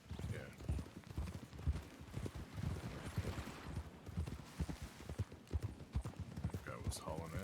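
Horse hooves clip-clop steadily through a game's Old West setting, a regular plodding rhythm of close, crisp knocks running the whole time, with people chatting over the top and a brief whinny near the end.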